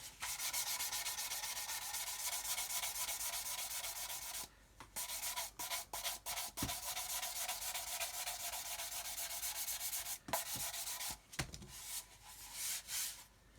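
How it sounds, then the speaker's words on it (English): Fine 600 grit sponge rubbing back and forth over a model's bomb bay doors, a continuous close scratchy hiss broken by short pauses and a few taps. "just go over where we've just been sanding"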